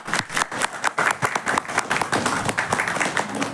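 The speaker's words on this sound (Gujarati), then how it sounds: "રજસ્વલા થઈ છે એના માનમાં આ મારી પૌત્રીને તાળીઓથી વધાવશો ને?" Audience clapping in honour of a granddaughter's first menstruation during a stage monologue, a dense, steady patter of many hands with some voices mixed in.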